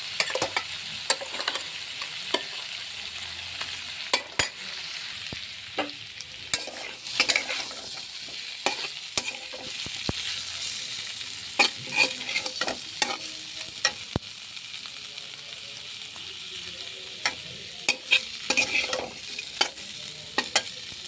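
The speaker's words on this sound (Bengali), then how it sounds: "মশলাটা কষানো হয়ে গেছে, এখন ফুলকপি আর আলুটা মিশিয়ে নেব।" A spoon scraping and stirring cauliflower and potato through a fried spice paste in a pan, with irregular clinks and scrapes over a soft, steady sizzle, close and without talk.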